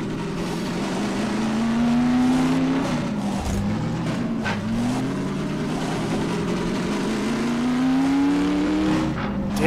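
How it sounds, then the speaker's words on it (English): A car engine in the video game Half-Life 2: Episode Two drones and revs through gear shifts, pitch climbing, dropping and climbing again, loud and steady with no voices. "Damn, this car sounds mean."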